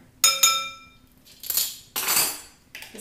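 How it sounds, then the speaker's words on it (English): Bright metallic clinks ring out twice as a spoon is pulled from a set of kitchen cutlery, followed by two softer clattering rattles of utensils, close and clear with no voice. "Just gonna grab a spoon"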